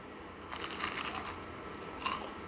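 Crisp crunching bites of a sweet potato fritter, a cluster of crackly snaps early on and another sharp crunch near the end, close up with no talking.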